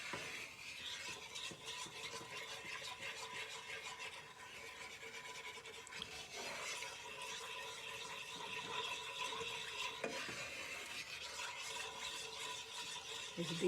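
A flour roux for seafood gumbo gets stirred in a pot, a soft continuous scraping and rubbing that stays quiet and steady throughout, with no talking.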